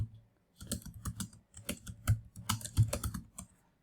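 Rapid keystrokes on a computer keyboard while a customer order form heading is entered in Google Sheets, sounding as dense bursts of clicks in quick irregular runs, close and fairly loud, with a short pause midway and no talk.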